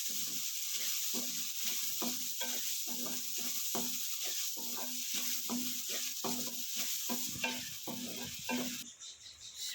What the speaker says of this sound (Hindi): इसे मिक्स करेंगे।